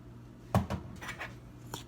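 Spoon scraping and knocking in a bowl as graham cracker crumbs are stirred with melted butter, a few short sharp clinks and a softer tap, close up and fairly quiet.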